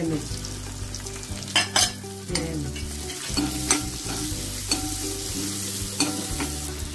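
Mustard seeds, asafoetida and turmeric sizzling in hot oil for a chickpea curry tempering, a constant close frying hiss broken by sharp pops and a few loud stirring scrapes.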